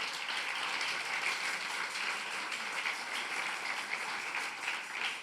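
A church congregation clapping together in a sustained round of applause, steady and dense, heard from within the room for several seconds.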